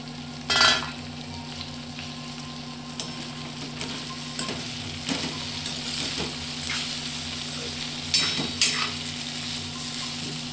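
Val bean pods cook in a pan with a steady, close sizzle. Occasional stirring scrapes and soft utensil clinks come through over the frying, with no talking.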